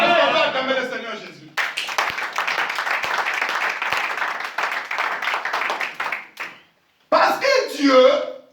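A church congregation clapping to acclaim Jesus: a dense, sustained round of applause, with a voice before and after.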